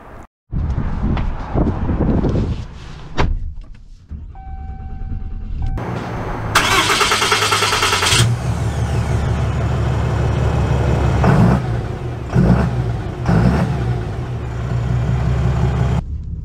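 A 2023 Ram 3500 Longhorn Dually pickup truck cranks and fires up with a loud roar, settles into a deep idle, then rumbles as it pulls away and drives, loud and close.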